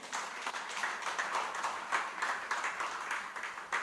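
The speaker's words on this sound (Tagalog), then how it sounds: "Palakpak para kay Lord." Church congregation clapping together, a dense, continuous burst of handclaps from a sizable crowd, close and steady for several seconds with no talk over it.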